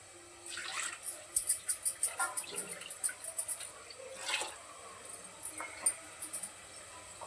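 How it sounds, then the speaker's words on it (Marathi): Water pours and splashes into a pot holding ground barnyard millet batter in uneven bursts, with bright trickling and spattering, close by and moderately loud, with no voices. "टोपात सगळं काढून घेते आणि थोडंसं पाणी घालते"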